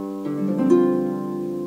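Double-strung harp notes enter one after another in a staggered 1-5-8 pattern, building a ringing stacked chord that sustains and slowly fades.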